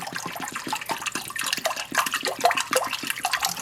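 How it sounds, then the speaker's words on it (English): Water poured from a container into a cooking pan at home, a steady splashing, gurgling stream with rhythmic surges, close and moderately loud throughout with no talk. "First you want to get your pan and just pour about 2 cups of water in there."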